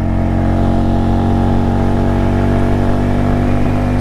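An Italika 250 Z motorcycle engine runs steadily at a loud, even drone, with the throttle held rather than sharply revved.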